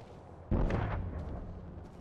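Sudden loud burst of video game gunfire in a first-person shooter battle near a falling care package, a heavy boom-like volley followed by sustained rumbling shots fading over a second and a half.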